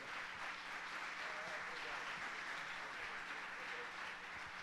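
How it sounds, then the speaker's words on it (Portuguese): A church conference congregation gives a steady wash of applause, even and continuous, heard at a moderate distance. "dê um aplauso ao Senhor"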